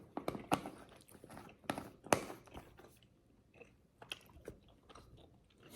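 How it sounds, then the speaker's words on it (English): Multivitamin gummies being chewed close up, with sticky, crunchy mouth sounds in bursts, busy at first and then slowing to sparse, softer chews. "Excuse the chewing"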